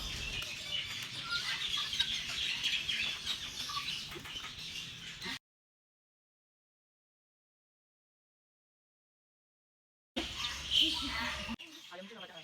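Chickens cluck and chatter faintly amid bird park bustle and voices, cutting to silence midway before resuming briefly.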